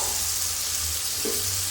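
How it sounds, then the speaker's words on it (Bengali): Fried chicken pieces sizzle while being sautéed with ginger-garlic paste in a pan, a constant close hiss with a low rumble and a faint stirring knock. "ভাজা মাংসটা দিয়ে আমি ভালো করে এটাকে কষিয়ে নিচ্ছি"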